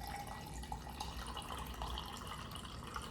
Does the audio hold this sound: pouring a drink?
yes